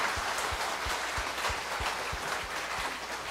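Church congregation applauding during a sermon, a steady wash of many hands clapping at moderate distance, with a few stronger rhythmic claps standing out in a loose beat.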